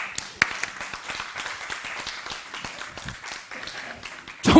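A church congregation at a Korean Bible lecture claps together, a steady patter of many hands at moderate volume, with a louder burst right at the end.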